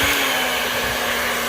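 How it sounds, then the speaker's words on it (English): A blow dryer runs steadily on its cold, low setting, a constant close whooshing airflow with a steady motor hum and no pauses. "Right now we're going to turn the blow dryer on."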